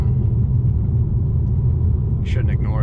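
Steady low rumble of road noise inside a 2021 Mercedes-AMG C63s coupe cruising in comfort mode, a continuous dense drone throughout with a brief faint higher chirp near the end.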